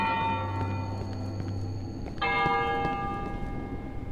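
A deep, resonant bell tolls in the horror game Cry of Fear, one long sustained strike fading before a second bright clang rings out at mid-clip, with faint footsteps underneath and no voices.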